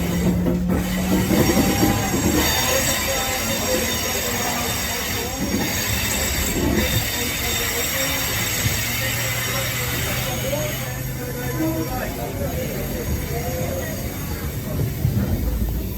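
Steady rumble of a ride aboard the S28 heritage train, with continuous rolling wheel and track noise, a few high squeals from the wheels and some faint voices in the background throughout.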